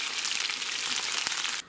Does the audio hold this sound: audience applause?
no